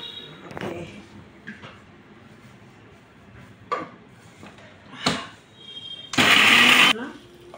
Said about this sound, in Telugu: చూడండి మిరపకాయలు నూరుకుంటున్నాను నేను